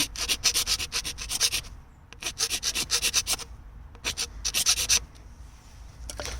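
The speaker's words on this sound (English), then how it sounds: "I don't have anything else to sand, but I'll sand them a bit so that the new one sits exactly plain." Sandpaper rubbing back and forth over the speaker housing surface in a VW Golf Mk4 front car door, close rhythmic scratchy strokes in three bursts separated by short pauses.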